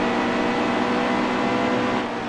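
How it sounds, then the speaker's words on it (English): A NASCAR race car engine in the NASCAR Heat 2 video game drones in a loud, steady tone at high revs, constant and close, with no voices over it. "Listen to that engine tone."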